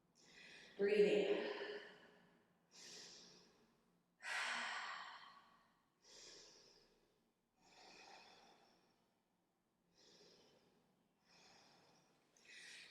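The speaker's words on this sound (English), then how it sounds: "Breathing." Slow, deep breaths during a yoga stretch, with a series of audible exhales and sighs spaced a second or two apart, close to the microphone and fading softer toward the end.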